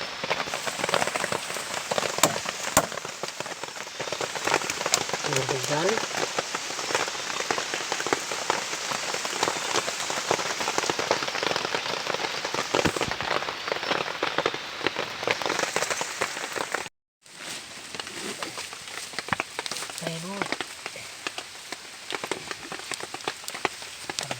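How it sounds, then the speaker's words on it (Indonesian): Steady heavy rain pours down, a dense continuous hiss of drops on surfaces, briefly cutting out once before resuming just as strong. "Pas hujan. Hujan."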